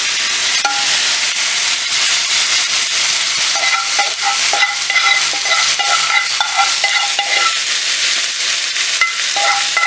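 Kidney beans bubble and sizzle loudly in a pot while a spoon stirs and scrapes against the bottom in a loose repeating rhythm; close up, continuous, no talking.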